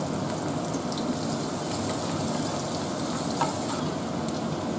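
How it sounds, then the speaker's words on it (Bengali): Small batches of okra frying in hot oil, a steady soft crackling sizzle that holds at an even, fairly quiet level throughout, with no voices. "একটা একটা করে এভাবে অল্প অল্প করে ভেজে নেব, যাতে ভেন্ডিগুলো ভালো ক্রিস্পি হয়"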